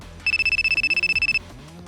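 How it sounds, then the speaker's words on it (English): A mobile phone rings with a bright electronic ringtone, a rapid pulsing series of tones lasting about a second, loud and close over a quiet low background. "Your phone is buzzing."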